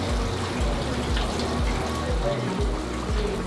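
Water from the Fountain of Youth spring in St. Augustine, Florida, which is fed by an aquifer, runs steadily from a drinking fountain. It makes a constant close-up splashing rush.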